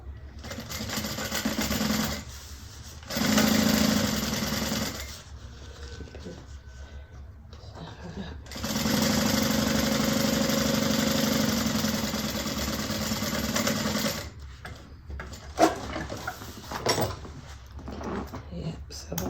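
A sewing machine stitches a Rhoda bag in several sustained runs of steady motor hum with pauses between, while someone talks in the gaps and over parts of the stitching.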